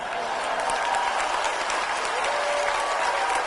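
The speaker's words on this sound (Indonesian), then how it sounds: "Sekali lagi tepuk tangan yang meriah untuk Menteri Pertahanan Republik Indonesia, Prabowo Subianto." Audience at a national seminar applauding after a speech by Indonesia's defence minister, steady dense clapping from a large crowd, held at an even level throughout.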